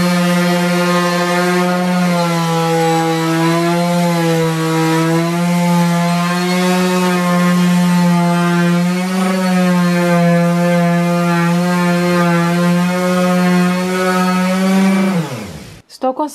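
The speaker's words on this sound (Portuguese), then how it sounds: "Vou começar lixando a parte de cima aqui" An electric power sander runs on the top surface of a wooden living-room furniture piece, a steady, loud motor whine with a constant pitch that holds for about fifteen seconds and then winds down and stops.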